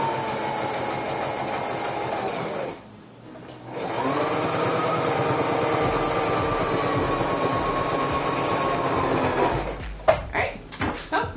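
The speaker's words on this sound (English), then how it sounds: "I just finished sewing the first seam" A sewing machine hums steadily while stitching the first seam of a maxi skirt, a continuous close whir that breaks off briefly and then resumes, ending in a few clicks and handling noises.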